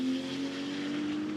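A GT2 race car drives past on a wet Spa circuit during free practice, a brief, moderately distant engine drone with hissing spray.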